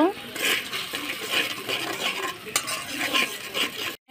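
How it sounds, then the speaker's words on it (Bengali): Onions with turmeric, chili and cumin powder being stir-fried in a pan for a rohu fish curry with potato and long beans, with steady sizzling and repeated spatula scrapes and clinks close by, no talking. "সবগুলো এখন ভালোভাবে কষিয়ে নিব।"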